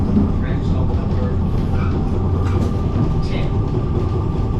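A Christchurch tram rolls along its rails through the city, a steady low rumble and rattle running continuously and close, with a voice talking faintly over it.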